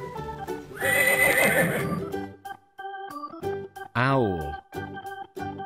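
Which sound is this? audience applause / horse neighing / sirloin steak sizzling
horse neighing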